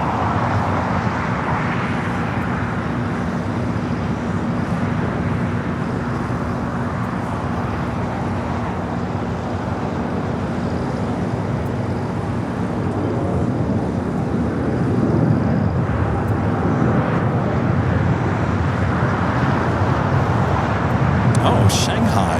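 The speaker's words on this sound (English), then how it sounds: "the flight to Shanghai taking off there on the north side" An airliner bound for Shanghai takes off from the north side at LAX, a broad, steady jet roar heard from a distance that swells slightly toward the end, with a person talking over it.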